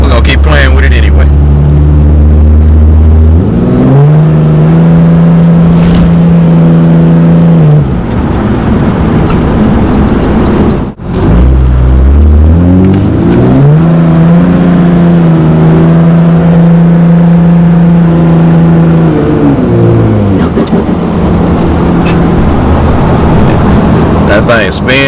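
A Dodge Ram with a Cummins diesel revs hard as its tires spin for long stretches, a loud sustained engine roar rising and holding, easing briefly, then climbing again, with tire noise underneath.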